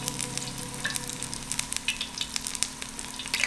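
Batter-coated zucchini blossoms fry in hot oil, giving a steady close sizzle with scattered sharp pops and crackles and no talking.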